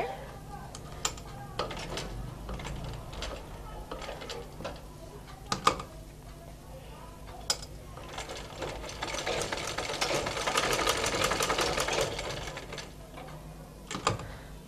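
A sewing machine stitches a hook loop on a blouse, running in short rattling bursts with sharp clicks between them and a longer steady run near the middle.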